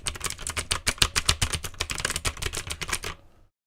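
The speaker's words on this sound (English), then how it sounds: "New keyboard ASMR." Fast, steady typing on a new mechanical keyboard, a dense run of crisp close-up key clacks with no talking, stopping abruptly just before the end.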